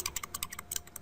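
Quick, close keystrokes on a computer keyboard as a command is typed: about a dozen crisp, light clicks in an uneven rhythm over a second, with no voice.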